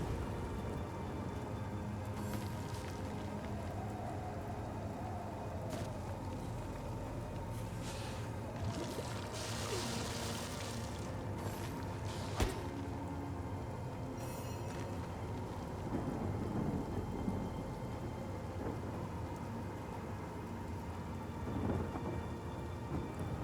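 Stone Storm spell effect from Divinity Original Sin, a steady roaring downpour of rain-like pelting with a thunderous crack midway, loud and continuous throughout.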